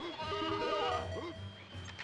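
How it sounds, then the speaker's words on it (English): Sheep in the Toy Story 2 video game bleat several times in quick, wavering calls over a low background hum, close and fairly loud. "And that was the last sheep."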